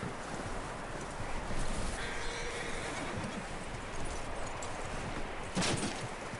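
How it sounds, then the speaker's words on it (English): A horse in the video game Red Dead Redemption 2 neighs, with hoof clip-clops over a constant outdoor ambience. The sounds are moderately loud and close, with a brief sharper burst near the end. "That looks like a decent horse. You should keep him."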